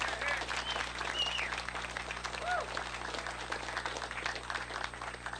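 Sustained crowd applause at the 2008 Jack's Surfing Walk of Fame ceremony on a sidewalk, a dense steady wash of clapping from a sizable outdoor audience, with faint voices and whistles mixed in.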